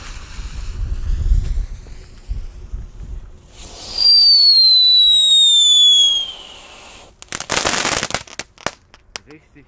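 A whistling firework streaks upward with a rising screech, followed by a sharp burst of crackling explosions and a few scattered pops outdoors.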